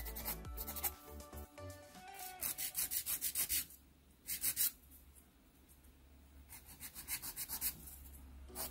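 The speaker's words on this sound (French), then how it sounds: "on peut légèrement, mais très légèrement, passer sur le haut avec la lime." A nail file rubs lightly across the top of a freshly decorated white and gold nail, making soft, rhythmic rasping strokes in quick close bursts separated by short pauses.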